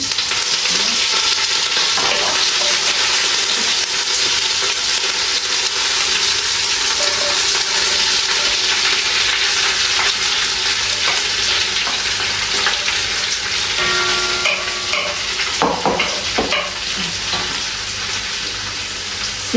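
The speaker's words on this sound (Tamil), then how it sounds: "இதுக்குள்ளே நான் இப்போ கருவேப்பிலையை போட்டு வெங்காயமும் கொடுக்குறோம் ஆனால் கருவேப்பிலை கடந்து பறக்கும்" Curry leaves and onions fry in hot oil with mustard seeds for a Malaysian-style mushroom Manchurian, a loud, continuous close sizzle that turns crackly and spitting toward the end.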